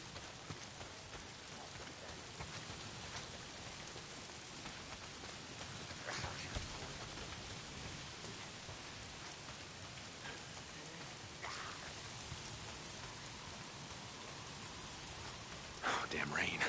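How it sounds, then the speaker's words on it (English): Steady rain falls in the video game Days Gone, a soft continuous hiss of drops on surfaces that holds evenly throughout and swells slightly louder at the very end. "If it's not the freaks, it's the goddamn rain. Why is it always raining?"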